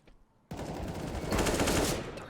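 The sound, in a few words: gunfire in a duel, from the video game CS:GO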